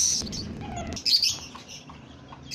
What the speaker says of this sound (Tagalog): Ito po yung mga bago kong papisa na mga yan Brahma po yan.